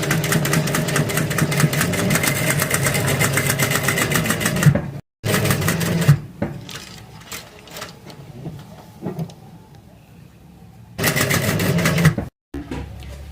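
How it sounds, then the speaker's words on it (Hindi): A sewing machine runs in steady mechanical bursts while stitching down a folded fabric neck strip, with a few brief pauses and a quieter stretch between the loud runs. "इसके बाद अब गले की मोड़ने के बाद ऊपर से एक सिलाई जाएगी।"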